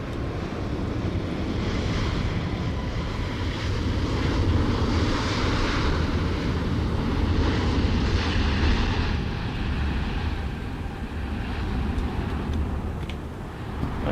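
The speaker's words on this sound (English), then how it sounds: "Is that a plane I can hear?" Boeing 737 climbing out after takeoff from Brussels in a flight simulator game, a broad steady engine roar that swells and fades slightly over about fourteen seconds, loud and continuous with no talk.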